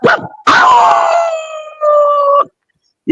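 A man imitates a dog howling, giving two long, loud wavering howls with a short yelp before them and another starting at the end, close to the microphone and separated by brief silences.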